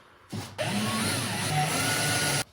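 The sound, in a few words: power drill drilling holes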